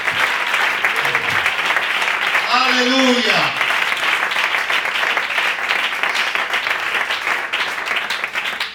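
A church congregation claps loudly and continuously through the whole stretch, a thick roar of many hands, while a voice shouts an exclamation in the middle.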